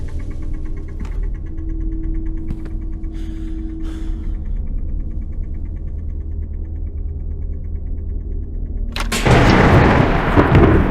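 A heavy roll of thunder from a thunderstorm in a horror video game breaks in loud and sudden near the end, after a long stretch of low rumbling ambience with scattered faint knocks.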